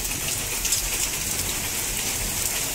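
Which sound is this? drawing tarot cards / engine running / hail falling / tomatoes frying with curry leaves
hail falling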